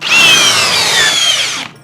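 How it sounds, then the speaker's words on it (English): A FLEX or Ridgid hammer drill driver drives a 5-inch lag bolt in one loud, sustained motor whine lasting under two seconds, its pitch sagging slightly under load before it cuts off abruptly. It is close up and heard without speech. "Now for the 5-inch lag bolt test with the hammer drill driver."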